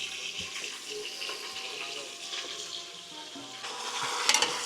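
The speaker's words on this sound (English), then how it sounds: "Now we're gonna just make it sear off, but you wanna mix it at the same time." Oxtail sears in a pot with a steady, moderate sizzle and crackle, joined by occasional stirring clatter and a sharper burst near the end.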